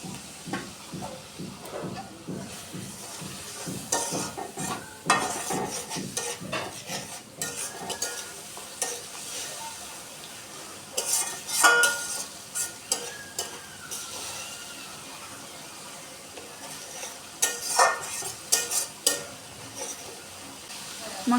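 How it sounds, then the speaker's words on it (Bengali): Turmeric, red chili powder and salt fry with a splash of water in a pan as a spoon stirs and scrapes, steady sizzling with intermittent metallic clinks and a little speech. "মশলাটা ভাজার জন্য একটু জল দিয়ে দিচ্ছি।"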